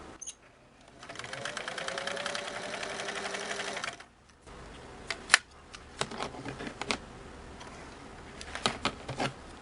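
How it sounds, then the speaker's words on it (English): A Singer 328K Style-O-Matic sewing machine stitching fabric, a rapid mechanical whir for about three seconds, then quieter clicks and handling sounds, close up and without talk. "Put your material under the presser foot, lower the foot, set your tension and stitch length, and sew."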